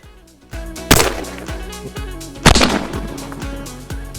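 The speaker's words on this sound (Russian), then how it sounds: "Я надеюсь, этот выстрел попал в кадр." Two loud, sharp shotgun shots ring out about one and a half seconds apart, each followed by a booming echo in open space, with thumping sounds between.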